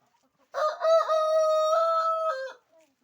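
One rooster crows loudly and close by, a single drawn-out call standing alone against silence.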